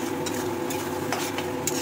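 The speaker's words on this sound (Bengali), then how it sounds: "এবার একটুখানি খুলে কষবো সুন্দরভাবে" Spice masala being stir-fried with softened onions and tomatoes, a dense continuous sizzle with brief scraping strokes of a spatula, close and steady.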